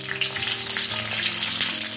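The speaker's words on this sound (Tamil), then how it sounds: "கடாயில் கடலெண்ணெய் கொஞ்சம் ஊற்றிருக்கேன், சூடாயிடுச்சு. இதுலேயும் ஃப்ரை பண்ணிடலாம். ஷாலோ ஃப்ரை தான்." Peanut-stuffed capsicum shallow frying in heated groundnut oil in a kadai, giving a steady close hiss and crackle throughout with no talk.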